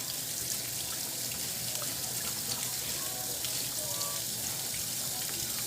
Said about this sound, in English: I'm washing up my eggs